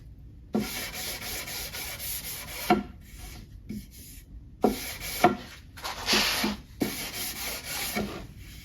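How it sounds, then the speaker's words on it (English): Someone sands the edge of a wooden kitchen cabinet part by hand. Bursts of rough, raspy rubbing are separated by short pauses and come in several passes, close and fairly quiet. "Sand edge."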